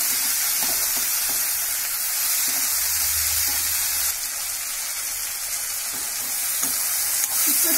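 Salted masala fries in a pan for creamy chicken, sending out a steady close sizzle with occasional soft stirring strokes throughout.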